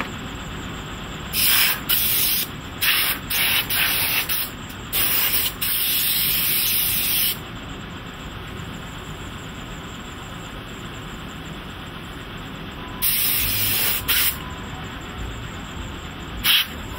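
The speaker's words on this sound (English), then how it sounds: "Molder constantly uses a compressed air nozzle to blow away loose sand." A compressed air nozzle blasts away loose sand in a foundry mold, loud hissing bursts of varying length, some brief and some lasting a few seconds, separated by gaps over a steady low background rumble.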